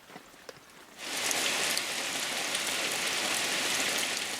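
Steady heavy rain in the Andean cloud forest of Ecuador's east slope begins abruptly after a quiet moment, then keeps up as a dense, even hiss of drops falling on foliage and surfaces.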